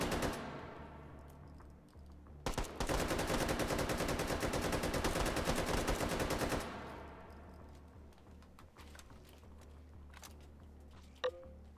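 Long sustained automatic gunfire in the H3VR virtual reality shooter, a dense continuous burst of several seconds, preceded and followed by quieter clicks and handling sounds.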